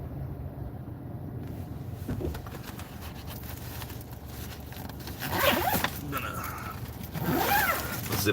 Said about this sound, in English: Zip this bag up just a little bit more.